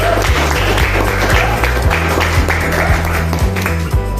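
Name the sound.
classroom applause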